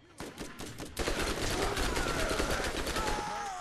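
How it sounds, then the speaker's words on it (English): Submachine gun fire in the video game Borderlands, a gun firing two bullets per click, with dense rapid bursts of shots that run continuously and loud for most of the clip. "This gun shoots 2 bullets per click, as you can see down there."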